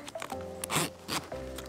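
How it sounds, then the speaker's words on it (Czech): A zipper pulled on a Templar's Gear INQUISITOR ROC plate carrier, two quick rasping strokes up close, separated by a short pause, with faint background hum. "následně vezmu zip"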